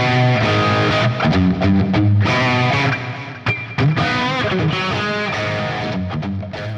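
Distorted electric guitar tones from a Charvel Rick Graham signature DK24, loud and continuous with fast melodic runs and sustained notes, played alone without talk.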